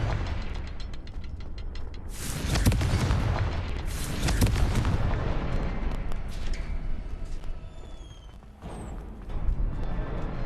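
Blasting-spell explosions in the video game Hogwarts Legacy go off as several loud, booming bursts with crackling debris, separated by brief quieter gaps and followed by a softer rumbling tail.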